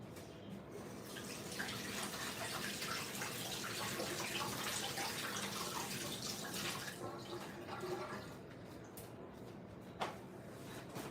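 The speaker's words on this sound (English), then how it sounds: "So let me just wash my hands." Water runs steadily from a tap while hands are washed in a home kitchen, a continuous close splashing rush with faint clinks near the end.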